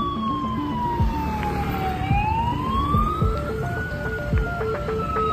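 A fire engine siren arrives at a temple gateway fire in Xingang, wailing loudly in rising and falling sweeps over a stepped, repeating horn tone, with a vehicle engine rumbling underneath.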